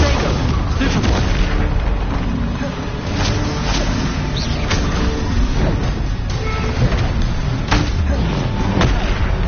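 Explosive booms from the Bombarda spell in Hogwarts Legacy, loud repeated blasts and pops amid dense battle noise, with a voice speaking over them.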